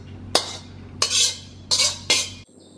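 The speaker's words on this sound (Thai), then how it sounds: "เดี๋ยวไข่ให้มันสุกคลุกข้าวเข้าไป" A metal spatula clanks and scrapes against a wok four times in quick succession, folding rice into egg for crab fried rice at a street stall in Pattaya. Each stroke is close and loud, with a scraping tail, and no voices.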